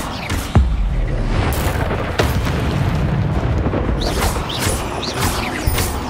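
Casting the Incendio fire spell in Hogwarts Legacy sets off a loud whooshing burst of flame with booming impacts, over a constant rumbling game backdrop.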